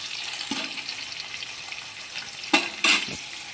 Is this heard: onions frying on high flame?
yes